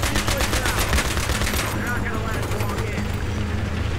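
Battlefield 3 gunfire, dense automatic bursts fired in a sustained run that thins out partway through, loud over a low rumbling background.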